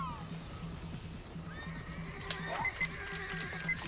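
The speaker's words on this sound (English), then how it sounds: "the one at the back neighed" Rapidash neighing in the video game Pokemon Snap, a whinny rising over rhythmic hoofbeat-like clopping and game music, with bright chiming tones near the end.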